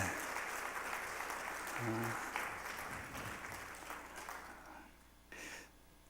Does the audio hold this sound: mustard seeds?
no